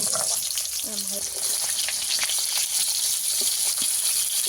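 Freshly caught pond fish fries in hot oil until reddish, giving a steady, close bright sizzle and hiss with a few soft clinks, and no voices.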